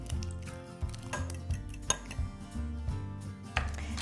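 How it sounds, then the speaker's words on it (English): One egg is beaten in a bowl with a fork or whisk, giving rapid light clinking and tapping with a steady rhythm under faint background music. "An egg wash is just simply 1 egg that's beaten in a bowl."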